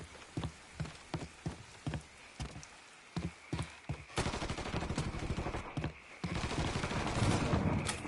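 Gunfire in Mafia 3 starts as spaced single shots in a steady rhythm, then turns into dense rapid bursts from several guns, loud and close, with a rain-like hiss behind.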